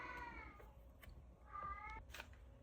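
A pet cat named Prue meowing indoors, two drawn-out wavering meows about a second apart, faint and fairly close, over a quiet background with small scattered knocks.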